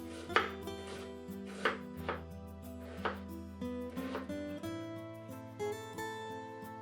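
Half an onion being finely chopped on a board, a series of crisp knife taps at an uneven rhythm about a second apart, close, over soft background music.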